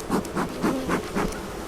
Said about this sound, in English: Looks like most of the bees are actually over on this side.